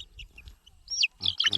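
A chicken at an Akha ritual clucks and squawks in short sharp calls that grow louder toward the end, with quiet low rustling before them.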